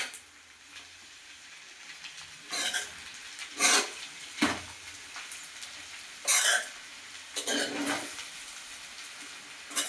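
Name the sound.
stirring and mixing veg fried rice in a pan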